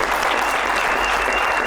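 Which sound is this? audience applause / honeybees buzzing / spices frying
audience applause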